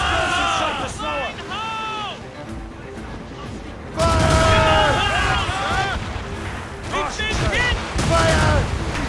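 A naval battle in the video game Assassin's Creed Rogue rumbles with booming cannon volleys and gunfire under shouting crew voices, with heavy blasts striking around four and eight seconds amid constant battle din.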